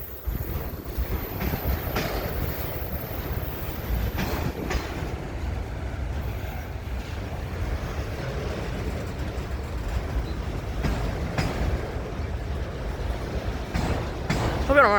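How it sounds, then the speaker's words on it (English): A very long freight train rolls past in Wartrace, Tennessee, a steady rumble with rail clatter and occasional wheel squeal, and a person talks over it now and then. "Oh, it's a train. Yep, it's another train."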